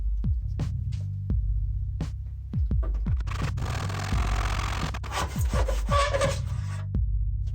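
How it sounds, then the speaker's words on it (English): A hand saw makes one cut in a plastic miter box. Rapid rhythmic back-and-forth rasping strokes come up close with scratchy friction, over a steady low hum, and there is no speech. "I'm going to do this one single cut right here with my plastic miter box"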